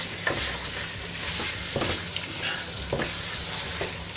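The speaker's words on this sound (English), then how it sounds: "You have to keep stirring and frying it." Lamb dopiaza curry fries on fairly high heat in a pan, a steady sizzle broken by scraping stirs every second or so, close and moderately quiet.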